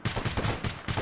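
Rapid, close gunfire in the game Stalker GAMMA, a dense run of about eight loud shots in quick succession filling the whole moment.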